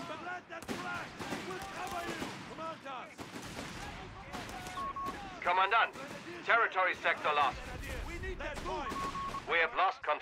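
A mortar fires in Company of Heroes 3 amid a 1v1 Wehrmacht battle, heavy thuds and gunfire bursts sounding in quick irregular clusters under continuous speech from a player.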